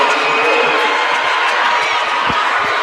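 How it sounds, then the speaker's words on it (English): A dense, steady roar from a Southside crowd at a high school state championship basketball game, loud and continuous throughout with no break. "Listen to this Southside crowd."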